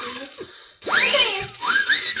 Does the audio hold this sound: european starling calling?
no